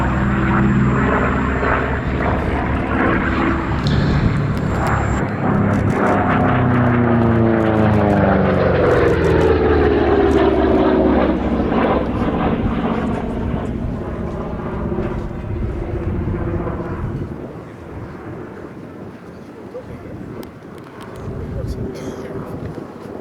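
A P-47 propeller warplane performs a 16-point hesitation roll at the Duxford air show, its engine loud and near, the pitch sweeping down as it passes, under a commentator's voice.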